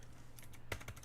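Typing on a computer keyboard, a brief burst of several quick key clicks at close range with a louder cluster of strikes near the end, over faint room hum.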